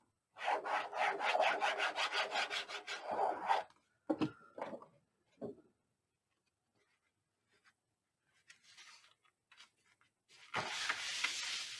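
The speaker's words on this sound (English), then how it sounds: "And burnish that down." Paper being burnished down by hand for a Christmas craft album gives close, rhythmic rubbing strokes in a steady burst, then a few scattered scrapes, a quiet pause, and another run of rubbing.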